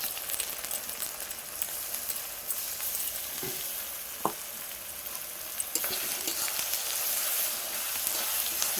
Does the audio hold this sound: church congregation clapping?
no